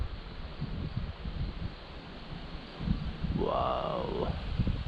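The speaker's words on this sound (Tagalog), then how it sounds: "yung hangin sa bundok" Gusty mountain wind buffets the microphone in a steady low rumble outdoors, with a brief sliding whistle-like call rising and falling partway through.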